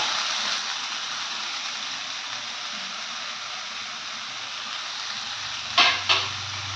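Onions and masala powders fry in oil in a pan for a paneer keema, giving a steady, even sizzle throughout, with two short louder clatters of stirring near the end.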